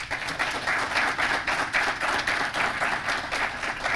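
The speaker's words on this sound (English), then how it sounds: "So again, another round of applause for John." Sustained applause from a conference audience at a BSides Las Vegas security talk fills the room with dense, steady clapping from start to finish, with no talk over it.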